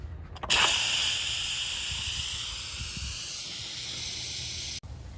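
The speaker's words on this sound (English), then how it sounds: "so let's quick release the steam." An Instant Pot pressure cooker quick-releases steam after cooking eggplant, a loud sudden hiss that bursts on and holds steady, fading slightly before cutting off abruptly near the end.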